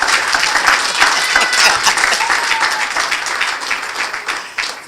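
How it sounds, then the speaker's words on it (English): Audience at a building dedication ceremony applauding, a steady dense wash of many hands clapping that stays loud throughout with no speech over it. "Clap your hands as she goes."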